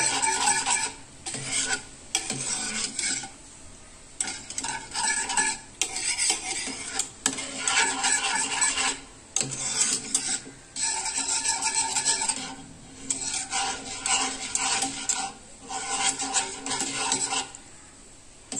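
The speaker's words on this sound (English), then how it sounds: "then you can beat this 1 egg and add to this mixture" An egg is beaten by hand into a cooled panna cotta mixture in a bowl, giving bursts of brisk scraping, whisking strokes broken by short pauses, close and fairly loud.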